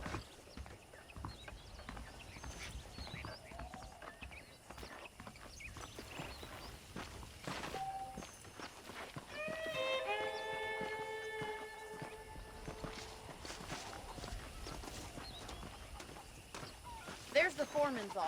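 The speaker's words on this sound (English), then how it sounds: "The horses are saddled up over here." Horse hooves clip-clopping at a walking pace in Red Dead Redemption, a steady soft rhythmic clatter of saddled horses running beneath speech, with a brief whistling tone partway through and a sharper knock near the end.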